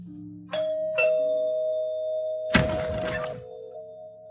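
Two-tone doorbell chimes ring twice at a front door, each ding-dong tone sustaining and overlapping, followed by a burst of broadband clatter, then a lingering bell tone.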